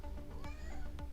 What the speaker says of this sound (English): The cat in heat.